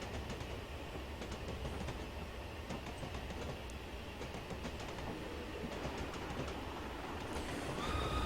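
A BR Black 5 steam locomotive running along Scotland's Western lines in Train Simulator 2015, heard from a distance as a steady rumble with a rhythmic clickety-clack of wheels over rail joints.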